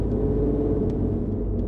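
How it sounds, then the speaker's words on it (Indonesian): BMW E30 fitted with a V8 engine, its exhaust giving a steady, moderately loud low rumble close by, a continuous engine drone with no voices. "Apa suara knalpotnya berisik, cuman nggak berisik-berisik banget sih"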